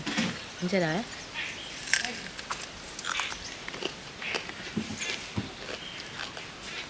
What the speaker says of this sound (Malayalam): നല്ല കറുമുറ കറുമുറാന്നായിട്ടുണ്ട്